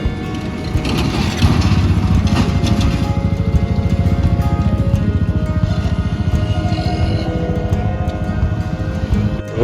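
Motorbikes being started at dawn by a group of riders setting out on a mountain road toward Dhotrey near Sandakphu in West Bengal, a steady loud engine drone running throughout at close range.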